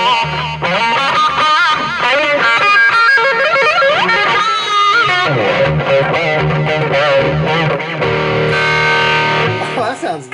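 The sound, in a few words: electric guitar with delay effect on BOSS unit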